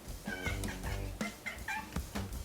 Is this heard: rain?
no